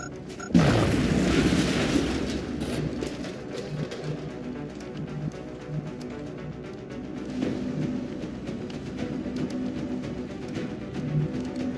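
A plasma grenade explosion in the LWR video game, one sudden loud boom with a falling rumble, followed by a lingering low hum and faint game sounds.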